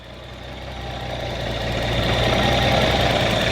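A 1982 Datsun 280ZX Turbo with a 2.8 liter turbocharged inline-six idles steadily and close, its even hum growing slightly louder, no talk.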